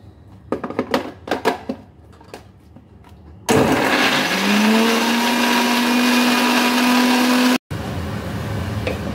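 After a few light taps and clicks, a blender roars on loudly, grinding bottle gourd peel with garlic and green chilies, runs steadily, cuts out for an instant and restarts.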